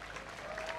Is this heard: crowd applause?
yes